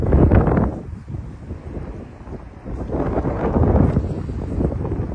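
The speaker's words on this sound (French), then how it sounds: "je suis ici avec un vent de dingue et j'en suis navré pour le micro et vos oreilles" Strong gusting wind buffets the microphone outdoors beside a 1969 Volkswagen Beetle, a loud rumbling roar that swells and eases in waves throughout.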